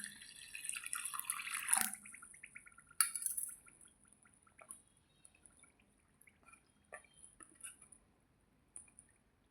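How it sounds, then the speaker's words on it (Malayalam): A little water is poured onto roasted spice powder with turmeric to soak for an egg curry. A close, quiet splash lasts a couple of seconds, then a few faint scattered drips follow, with no talking. "ഇനി നമുക്ക് ഈ പൊടിയിൽ കുറച്ച് വെള്ളം ഒഴിച്ച് കുതിരാൻ വയ്ക്കാം."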